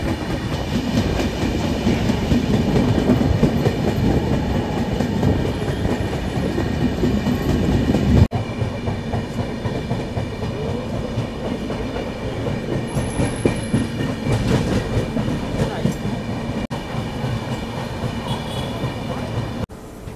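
15722 Pahariya Express rolling through Siliguri Junction, a steady loud rumble of wheels and carriages with rhythmic clatter throughout, one abrupt break partway, and no talk.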